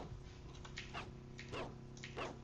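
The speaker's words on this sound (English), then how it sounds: "Yes, my dog was fighting, and now he's injured." Dog barks and yelps from a fight in the Caves of Qud video game, several short sharp bursts repeating over a steady low game hum.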